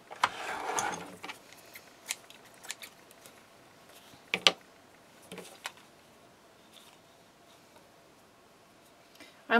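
Scissors trim loose threads on a stitched craft tag, producing a few faint, scattered snips and small clicks amid quiet background, with no speech.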